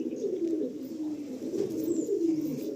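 A green ice pigeon coos in soft, low, rolling phrases, close by and steady, with no other voices present.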